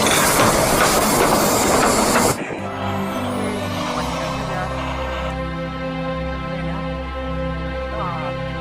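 A toy train is switched on: a burst of hissing noise cuts off, then a steady mechanical whir takes over with a few small chirps, running close and continuous.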